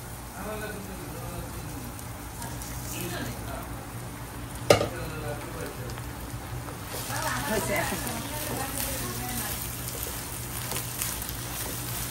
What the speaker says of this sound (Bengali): এখন পোলাও চালটা আমি ঢেলে দেবো, ব্রেস্তা হয়ে গেছে।